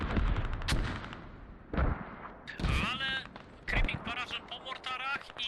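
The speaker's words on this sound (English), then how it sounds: "Oni zrzucają mortary na Tempesta. Ciężkie mortary na Tempesta." Heavy mortar barrage in a tactical military video game on the Kokan map, several loud low booms landing at intervals, interleaved with voices talking over comms.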